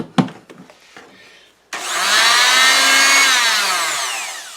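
A Mastercraft trim saw spins up with a sharp whine and cuts, a loud, close high-pitched scream that holds for a couple of seconds then slowly eases, preceded by a few light clicks and knocks.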